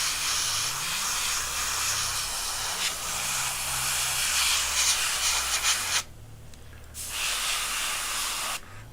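An airbrush sprays paint onto a Warhammer Tzeentch miniature, giving a steady close hiss that cuts out briefly near the end before resuming, with no talk.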